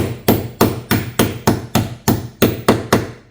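A hammer strikes a tool onto a damaged bolt head during engine removal prep on a Volkswagen R36, about nine sharp metallic blows in a quick, even rhythm, loud and close.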